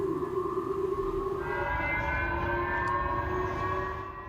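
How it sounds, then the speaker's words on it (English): Loud civil defense sirens sound across Hokkaido, Japan, in a missile alert, a sustained wailing tone with layered steady pitches that holds throughout and fades slightly at the end. "loud sirens were set off in Japan's northern region of Hokkaido"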